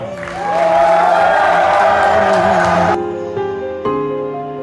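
Wedding guests at a traditional wedding in Gyumri clap and cheer as one crowd, loud and sustained for about three seconds, then music with voices carries on behind them.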